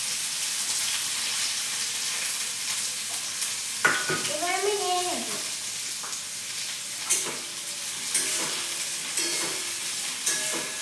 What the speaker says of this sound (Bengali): পেঁয়াজটা হালকা ভাজা ভাজা করতে